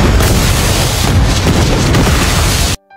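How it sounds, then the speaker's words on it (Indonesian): A cannon fires in a historical Korean drama scene, a loud sustained boom and blast filling the clip for nearly three seconds before cutting off abruptly. "sampai kemudian sebuah meriam menembakkan"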